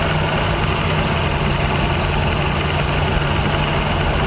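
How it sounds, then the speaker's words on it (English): Engine of a 1979 Chevy G20 custom van running on a drive with its carburetor loading up: a steady, loud, rough rumble with constant vibration and no breaks or talk. "That carburetor's kind of loading up a little bit."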